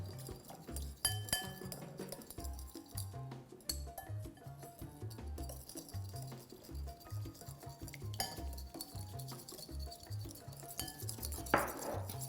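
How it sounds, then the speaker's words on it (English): A whisk clinks rapidly against a bowl as honey and olive oil are beaten into a dressing, a quick, steady metallic ticking that runs throughout, fairly soft and close, with no voices. "I'm adding the olive oil slowly while continuously whisking"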